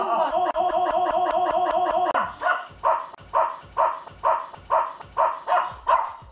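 Dogs barking in a rapid burst of about a dozen sharp, loud barks, followed by a slower run of separate barks spaced roughly half a second apart, with laughter heard near the start.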